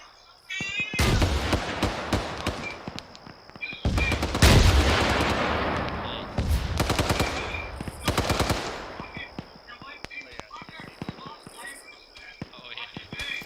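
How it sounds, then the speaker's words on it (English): A rocket launcher fires in the Squad military shooter during a training session, sending several loud, sharp blasts that ring out amid bursts of rapid gunfire. "Back blast clear. Rocket, rocket, rocket."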